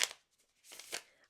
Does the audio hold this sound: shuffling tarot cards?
yes